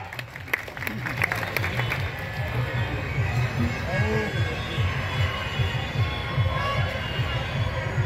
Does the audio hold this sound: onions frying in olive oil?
no